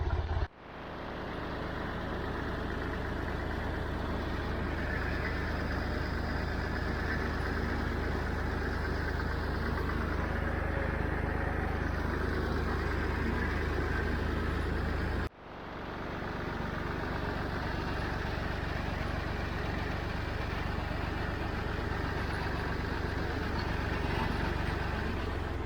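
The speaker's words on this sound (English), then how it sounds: "Really like the Perkins diesel on these Massey Ferguson" A Massey Ferguson 50 tractor's Perkins diesel engine runs steadily at idle to low throttle outdoors, a constant rumbling drone with no speech, briefly cut once partway through.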